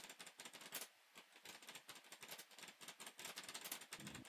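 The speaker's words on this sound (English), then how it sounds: "Hey, do you use a typewriter?" Rapid typewriter-like typing picked up over voice chat during a TruckersMP session in Euro Truck Simulator 2 multiplayer, a continuous irregular clatter of sharp key strikes, faint and distant.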